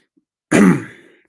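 A single sharp, close cough or throat-clear from an unwell man, loud and short, rasping out and trailing off within under a second in otherwise silent surroundings.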